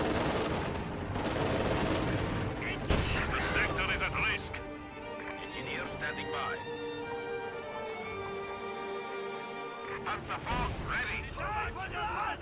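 A WWII strategy game battle with flamethrower and LMG Grenadier units, bursts of gunfire and blasts crackling throughout while a commentator talks over the fighting.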